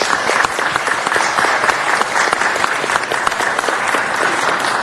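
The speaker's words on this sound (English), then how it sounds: "Let's give Governor Kim a round of applause." An audience at a 2007 city council meeting applauds a visiting provincial governor from the Republic of Korea. The clapping is dense, close and steady for several seconds, with a faint murmur beneath.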